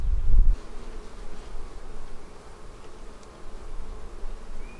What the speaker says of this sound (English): That is a lot of bees, which means that is a good sign.